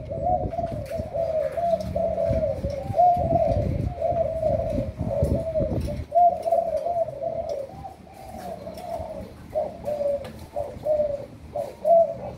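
A caged spotted dove coos over and over in steady, rhythmic phrases, close and clear, with a low background rumble during the first half.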